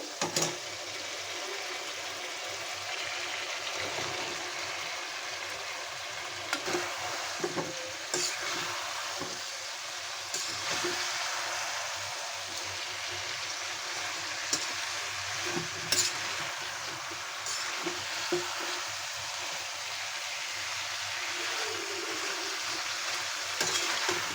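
Malabar spinach stir-fried with cooked masala in a pan, with a continuous close sizzle and repeated scraping, clinking stirring strokes throughout and no talking.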